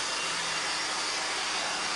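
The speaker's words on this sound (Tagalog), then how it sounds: "So, bugahan natin ng blower." A blower blasts a constant, loud hiss of air while cleaning dust out of an HP Compaq desktop computer, an even airy rush with no pauses or voices.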